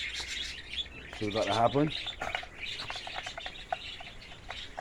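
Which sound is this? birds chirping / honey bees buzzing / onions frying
birds chirping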